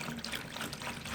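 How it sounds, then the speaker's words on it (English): A bottle of rose water pours steadily into a container for homemade hand wash, giving a continuous close liquid splash and trickle with no talk. "One bottle of rose water is poured"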